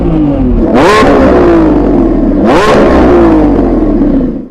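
A Lamborghini Revuelto V12 roars loudly and close, with two sharp throttle blips rising in pitch over a constant heavy engine drone and no talking.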